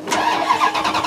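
A Dodge 3500 truck engine cranks and catches, a continuous close, loud mechanical churn running through the whole short moment with no voices.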